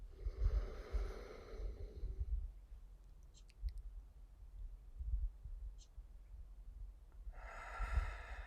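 Deep, slow breaths during a guided breathing exercise: two long, airy exhales at the start and end, with softer breathing and faint clicks between them, close and quiet.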